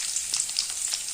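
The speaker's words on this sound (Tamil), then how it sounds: "வெங்காயத்தை நல்லா வதக்கிக்கலாங்க" Sliced onions sauté in hot oil with garlic and chilli, a steady close hiss with faint crackles and a few stirring scrapes over a short stretch.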